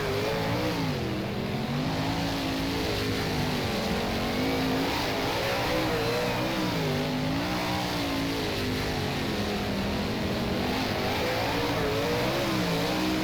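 Several 410 sprint car engines in the rFactor racing video game, at Tulare, drone and rev together in a steady, wavering whine, their pitch rising and falling as they run on without any talking.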